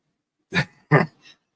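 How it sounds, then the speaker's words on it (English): Two short, sharp coughs close together, followed by a softer third bursting breath, near and alone in silence. "I have to cough, so excuse me."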